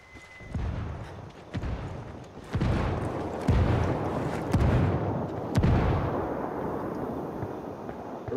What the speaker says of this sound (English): Okay, setting one mortar off.